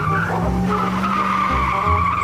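A car reversing with its tires skidding and squealing, a continuous grinding screech with engine hum underneath, loud and close, with no talking.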